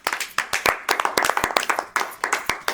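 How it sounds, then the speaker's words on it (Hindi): A small audience at a Navratri poetry gathering claps for a poet. The separate hand claps are sharp and close, come in uneven rhythm, and are heard alone. "उनके लिए जोरदार तालियां।"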